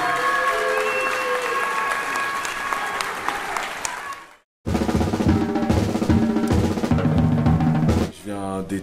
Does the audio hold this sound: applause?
yes